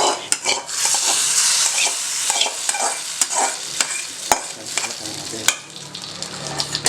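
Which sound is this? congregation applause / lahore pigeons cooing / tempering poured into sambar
tempering poured into sambar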